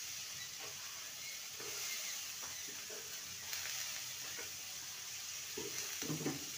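Chopped cabbage hits a hot pan of cooked-down spices, giving a soft, steady sizzle and hiss with occasional scraping stir sounds, fairly quiet and close, with no talk.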